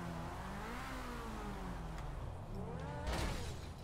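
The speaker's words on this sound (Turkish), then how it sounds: "Zentorno verdi gazı ve adamı sürüklemeyi başardı." A Zentorno supercar in GTA 5 revs hard, its engine note rising and falling in sweeping pitch with a louder surge near the end, close and steady without talk.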